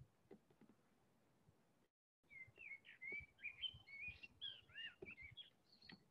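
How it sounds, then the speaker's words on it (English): A blackbird sings at midday on a living roof at a Jerusalem bird observatory, a run of clear fluting and twittering phrases after a short pause, moderately near over faint background rustle. "That's a blackbird singing"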